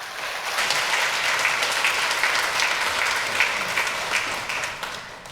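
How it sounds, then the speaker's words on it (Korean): A church congregation applauds during a Sunday service in a Korean church, a full, steady round of clapping from many hands that swells in and carries on evenly before easing slightly at the end. "우리 박수하겠습니다."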